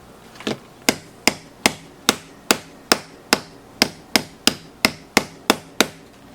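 A hammer strikes a sealed DC charger power supply casing in a steady series of about fifteen sharp, evenly spaced blows, close and loud, with no talking.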